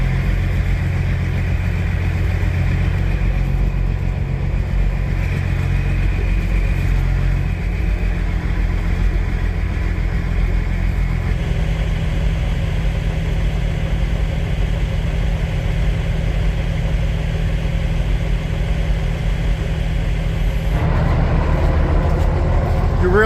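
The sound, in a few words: truck engine running after cranking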